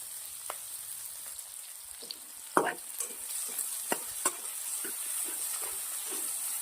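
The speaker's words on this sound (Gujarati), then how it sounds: "ડુંગળી લસણ થોડા એવા આપણે સોતે કરી લઈશું." Onion and garlic sautéing in a pan for baby corn Manchurian, a soft steady sizzle under scattered clicks and scrapes of a spoon stirring, with one louder knock.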